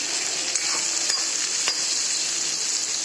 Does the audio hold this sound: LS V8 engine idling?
no